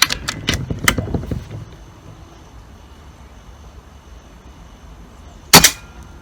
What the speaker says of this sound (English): That's shot to the right, and that was the last shot.